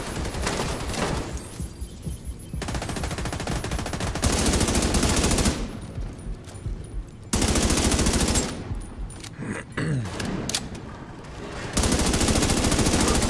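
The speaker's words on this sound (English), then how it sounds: "I don't know how he's still shooting me through that." Enemy gunfire in The Division 2, loud bursts of rapid automatic shots arriving in several long volleys separated by brief gaps, close and harsh.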